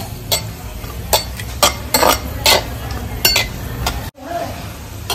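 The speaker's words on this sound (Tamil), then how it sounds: "நெய்யில முந்திரி பருப்பை நல்லா வறுத்தெடுத்துக்குவோம்." Cashew nuts fry in ghee in a pan, with sharp clinks and scrapes of a spoon stirring against the metal over a low, faint sizzle.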